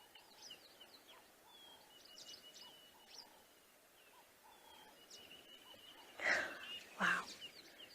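Southern masked weaver birds at their nests in an African safari setting, giving faint chattering and buzzy calls scattered over quiet background noise, then two louder harsh bursts near the end.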